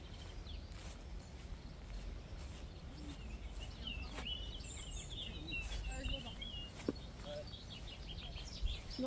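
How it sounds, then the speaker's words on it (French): Birds chirp and sing in an outdoor natural setting, scattered high calls over a low background hum and rustle, fairly faint and distant, with soft footsteps-like knocks. "Je sais pas si tu entends les oiseaux, la nature."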